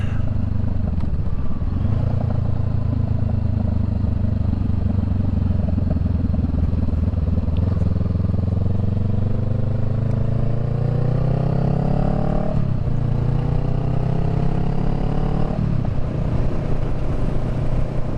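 Motorcycle engine heard from the rider's position while under way, a loud, steady low exhaust burble with gentle rises in pitch as the throttle opens, continuous throughout with wind noise.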